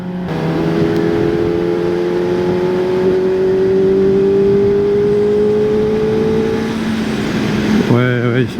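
A QJ Motor SRK 421 RR four-cylinder motorcycle pulls hard along a winding road, its engine note rising steadily in pitch as it accelerates, with wind noise underneath and a voice breaking in at the very end.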